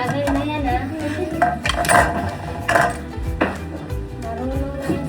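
A utensil clinks and scrapes against a bowl while mango cheesecake ingredients are mixed, with irregular knocks and clatter close by. Voices talk over it throughout.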